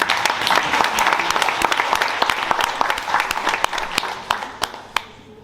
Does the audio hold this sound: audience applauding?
yes